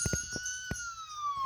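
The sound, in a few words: ambulance siren in a Peppa Pig cartoon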